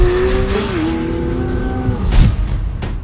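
A car driven hard on the Top Gear test track, a loud close engine note sweeping in pitch as it shifts and revs, with tyre noise and a burst of rougher sound toward the end, no speech.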